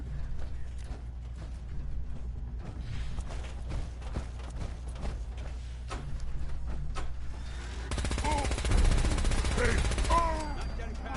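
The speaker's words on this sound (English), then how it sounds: "Perfect amount of shots." Gunfire in the video game Fallout 4, with a run of sharp shots and rapid bursts over a low hum and some mechanical clicks, followed by a louder, busier stretch.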